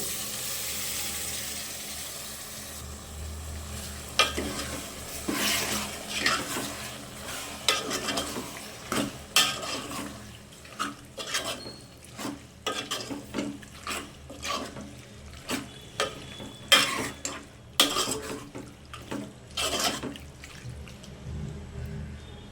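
Goat tripe frying with softened tomato in a pan is stirred with a utensil, giving repeated close scraping and clattering strokes in an uneven rhythm over a quieter sizzle.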